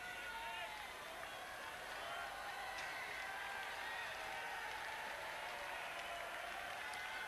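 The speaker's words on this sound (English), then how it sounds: "Crowd getting very involved." A large tennis crowd at a Henman vs Krajicek match, fifth-set-level tension at 5-all in the fourth set, keeps up a continuous, fairly distant wash of applause and cheering with no clear breaks.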